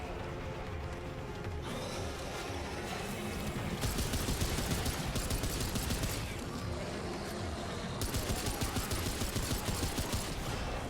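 Handgun fire in Remnant 2, with repeated sharp shots in bursts over a busy game soundscape that grows louder at intervals and continues throughout.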